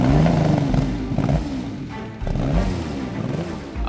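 A convoy of airport vehicles drives toward a taxiway, with engines rumbling and revving close by in uneven surges and a dip midway.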